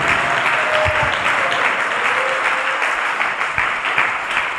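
A church congregation gives steady, loud applause to the Lord during a Spanish-language sermon on baptism, dense clapping sustained throughout with no talking.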